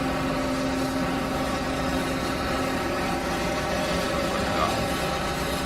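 Two farm tractor engines idling behind a plough on an Italian farm, a steady low droning rumble that holds constant throughout, fairly loud and near.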